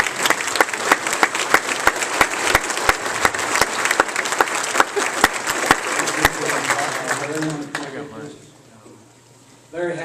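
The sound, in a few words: applause for Susan at a convention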